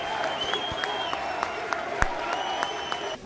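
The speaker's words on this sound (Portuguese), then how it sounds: "O caixão chegou sob muitos aplausos." A large crowd applauds as Eusébio's coffin arrives at Estádio da Luz, sustained outdoor clapping with scattered louder claps and a whistle or two riding over it.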